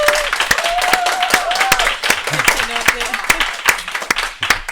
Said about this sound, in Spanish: Aplauso para todas ellas.